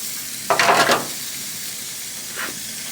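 Food sizzles on an infrared gas grill with the lid open: a steady soft hiss, one brief louder sizzling flare near the start and a fainter one near the end.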